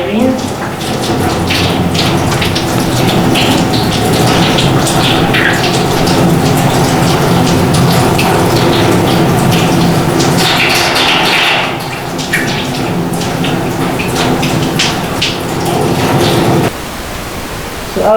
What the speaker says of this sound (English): And after that I rinse.